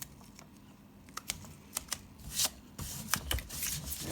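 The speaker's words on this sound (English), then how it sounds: "Laying tape across there." Adhesive tape pulled and pressed across a 3D-printed fidget toy, heard as a series of short, faint crackling rips and rubs at close range, with a louder tearing stretch near the end and no talking.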